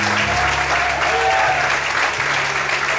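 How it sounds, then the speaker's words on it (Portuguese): A church congregation applauds steadily at an evening worship service, a continuous wash of clapping with faint tonal voices or music held underneath. "levanta a sua mão, glorifique, aplaude, exalte ao Senhor essa noite"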